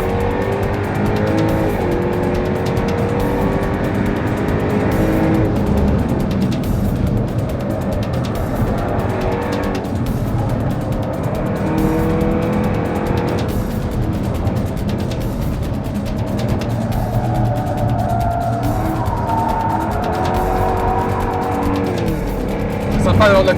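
A race car engine roars continuously around the Magny-Cours circuit during a Pirelli P Zero track day, a loud sustained drone with shifting pitch and hints of tire squeal, with someone speaking over it throughout.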